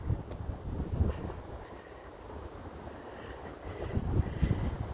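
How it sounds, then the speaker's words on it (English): Gusty wind blowing at a coastal car park of a nature reserve near Amble in Cumbria, a steady low rumble of wind buffeting the microphone with stronger gusts near the start and end, no voices. "It's a bit blowy up here."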